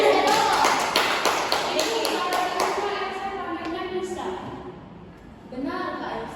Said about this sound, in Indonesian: Tepuk tangan untuk Else dong.